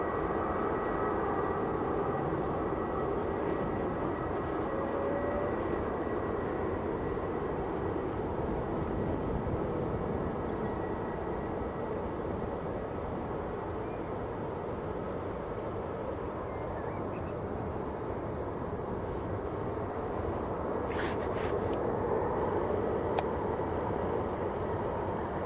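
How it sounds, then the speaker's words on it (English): An EasyJet airliner departs Manchester Airport, a broad steady roar of jet engines heard from a distance, holding at an even level throughout with no talk. "Just lining up, that's EasyJet going out to Belfast"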